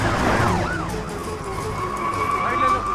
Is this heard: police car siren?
yes